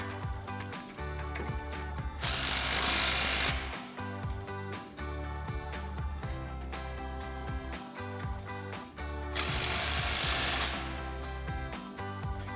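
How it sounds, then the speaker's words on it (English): A pneumatic impact wrench with a 15 mm socket tightens a suspension adjuster during a Jeep Wrangler JK 3.5-inch lift install, two loud sustained broadband bursts of hammering whir separated by steady workshop noise. "We can go ahead and tighten down our adjuster here. Again, with our 15 mil socket on our impact."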